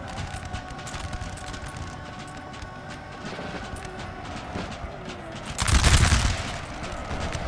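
Musket volleys crackle through a battle in the video game Napoleon Total War, with a steady din of scattered distant shots, then a heavy, booming blast.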